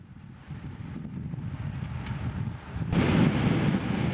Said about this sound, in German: Starker böiger Wind machte den Fahrern das Rennen nicht gerade leichter